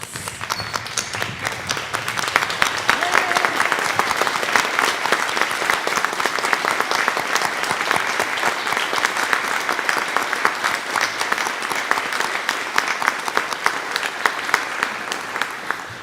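An audience at the Fayette County Teacher of the Year 2021 ceremony applauds its Teachers of the Year with dense, sustained clapping that holds at an even level for about sixteen seconds.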